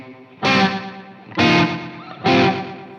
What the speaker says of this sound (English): here's that slapback on its own